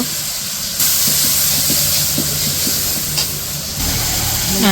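Chili paste hits a hot wok of fried onion and green chilies while cooking a village-style duck curry, giving a loud, steady sizzling hiss that surges abruptly near the start and again toward the end.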